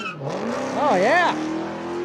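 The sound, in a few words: Dodge Hellcat drag racing launch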